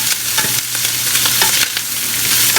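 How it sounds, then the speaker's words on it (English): Food sautés in an all-clad stainless steel pan layered with copper and aluminum, a loud steady sizzle with repeated scraping stir strokes and clinks throughout, no voices. "So we want those to saute nicely."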